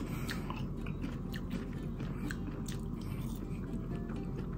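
Close, wet chewing of cooked wild forest mushrooms mixed with egg white, with soft crunches and squishy bites in an irregular rhythm over a constant background hiss, and no talking.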